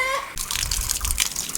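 Water is poured to fill rabbits' water containers during homestead chores, a close, steady splashing gush that starts after a brief tonal sound and continues to the end, with no talking.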